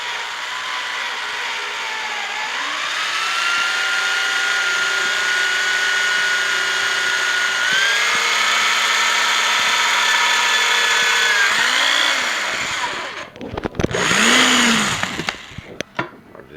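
A power drill drives a screw into the wooden frame of a raised garden bed, whining steadily and loud up close with pitch shifts as the load changes, then stopping and giving a short final burst.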